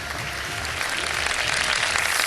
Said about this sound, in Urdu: تالیاں بجا دیں جی ان کے لیے